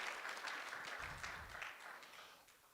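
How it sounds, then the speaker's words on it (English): Faint, distant applause from a guide dog graduation audience, a soft steady patter of clapping that slowly fades, with a brief low murmur partway through. "give them a round of applause"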